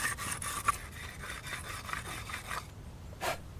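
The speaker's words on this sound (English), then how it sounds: "sand the fully dried bricks with this flat sanding" A flat sanding stone rubs over a fully dried adobe brick in repeated rasping strokes, close and fairly quiet, with short gaps between passes.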